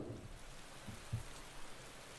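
Rain falls on a race track in the Motorsport Manager game, a quiet steady patter with a few soft low rumbles, heard alone without talk.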